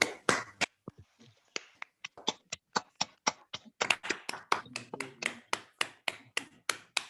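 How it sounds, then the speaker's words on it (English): Scattered hand claps from online meeting members of a Toastmasters club welcoming guests, a sparse uneven patter of separate claps over several seconds, each one sharp and close, with no voices. "welcome our guests with a good round of applause"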